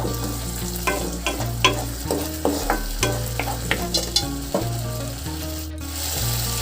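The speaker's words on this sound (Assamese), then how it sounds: "এতিয়া মই গোটেইখিনি পানী শুকাই অহালৈকে ভালকৈ ভাজি লওঁ" Tomato masala for kofta curry fries in a pan, a steady sizzle broken by a regular series of scraping spoon strokes, close and alone with no talking.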